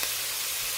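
Shrimp-pineapple fried rice being stirred in a hot pan, a brief, even hiss of sizzling with no distinct strokes.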